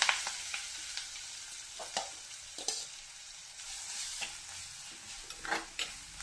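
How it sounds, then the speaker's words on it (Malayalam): Spice paste (arappu) frying in hot oil with popped mustard seeds while fish peera is cooked, a steady soft sizzle broken by sharp scraping stirs of the spoon, close by, with no talk. "കടുക് പൊട്ടിക്കഴിഞ്ഞപ്പോൾ ഞാൻ ഈ അരപ്പങ്ങ ഇട്ട് കൊടുക്കും"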